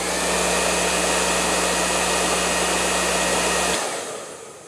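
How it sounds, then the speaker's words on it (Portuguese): An Italian Parlux hair dryer blows close up with a loud steady whining roar, then switches off near the end and its sound fades away. "eu vou ligar para vocês, escutem só o ruído desse secador, ok?"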